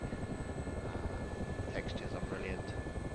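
Gazelle SA342 helicopter flying in the DCS combat flight simulator, a steady dense rotor and turbine drone filling the whole stretch at a constant level, with faint higher chirps partway through.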